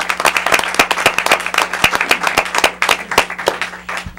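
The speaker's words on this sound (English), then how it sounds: "let's give Betty a round of applause" A small audience in a city council meeting applauds for a departing advisory board member, with brisk, fairly dense hand claps carrying steadily from start to finish.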